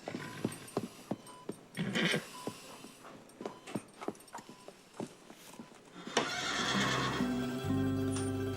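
A horse brought into a hospital neighs and whinnies several times amid scattered clip-clop hoof knocks, fairly close, followed by a steadier broadband noise bed near the end.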